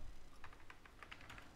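Typing on a computer keyboard while composing an email in Outlook, a quick run of a dozen or so soft, close key taps with no talking.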